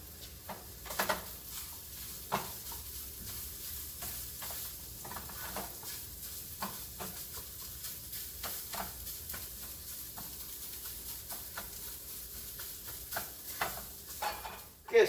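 Sausage frying in a hot pan, a steady crackling sizzle running throughout with scattered sharp pops and faint scraping of a utensil, moderately close and without talk.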